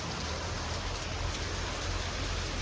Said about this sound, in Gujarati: જો મિત્રો, અત્યારે વરસાદ ફૂલ ચાલુ છે.